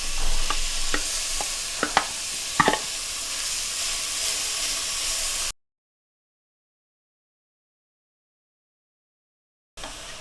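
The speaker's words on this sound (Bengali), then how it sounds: "গাজর কুচি দিয়ে কিছুক্ষণ ভেজে নেব।" Grated carrot with cloves and cardamom stir-fries in a pan for carrot halwa, a steady close sizzle broken by a few spoon scrapes, then a stretch of silence before the frying returns.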